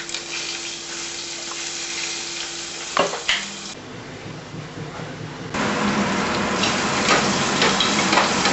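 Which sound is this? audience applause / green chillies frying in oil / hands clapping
green chillies frying in oil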